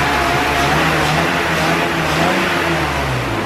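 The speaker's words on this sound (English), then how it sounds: "Come over here and rev this bad boy." A BMW E34 525i with an M50 engine, back running after a blown head gasket, revving loud and close in a sustained, steady roar with no voices over it.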